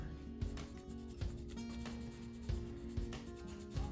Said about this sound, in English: let's get the black pencil and do Pikachu's eyes